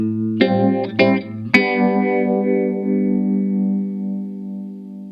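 An electric guitar runs through a Keeley Bubble Tron phaser and flanger pedal on its modern setting. A few picked notes and a strummed chord ring out with a swirling, sweeping modulated tone, and the chord sustains and decays for several seconds. No voices.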